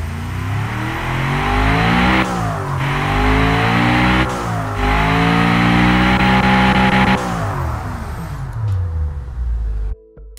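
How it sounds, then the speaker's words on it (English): A virtual car engine in the Automation game revs loudly and close, climbing and falling in pitch across several rises before cutting off abruptly near the end. "Listen how quiet this engine."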